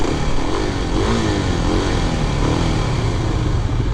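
A 2023 Kawasaki KLX 300SM motorcycle on a test ride, its single-cylinder engine running loud and steady nearby with slight rises and falls in revs and wind rush, and no talk.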